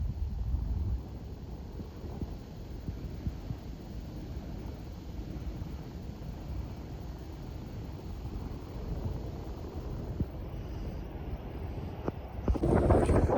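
Wind blowing at a dam near the Rathoa Haryam Bridge in Mirpur, Azad Kashmir: a steady, breathy outdoor rush buffeting the microphone throughout, with gusts rising again toward the end.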